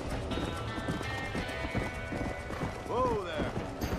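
A horse gallops in Red Dead Redemption gameplay, with rapid clip-clop hoofbeats running throughout and a whinny near the end, under overlapping talk and game sounds.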